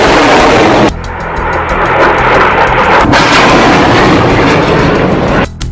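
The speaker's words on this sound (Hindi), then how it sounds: "हमास एक के बाद एक 10 रॉकेट फायर करता है" Hamas rocket launches in the Gaza conflict fill the scene with a loud, sustained roaring blast that stays dense and continuous throughout, broken by a couple of sharper bursts.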